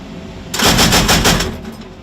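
A heavy-calibre machine gun fires one loud, close burst of about eight rapid shots from an armored vehicle, lasting about a second before fading into quiet.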